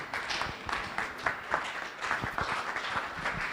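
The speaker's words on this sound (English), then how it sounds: "Let us be upstanding and clap as he comes." Conference audience at a plenary session claps as someone is welcomed forward, a quiet, loose patter of individual claps heard at a distance with no steady rhythm.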